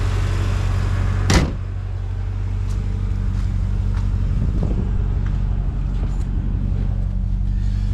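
A Mercedes C43 AMG sets off for a drive with a steady low engine hum and road rumble, close and continuous, and a brief sharp knock near the start.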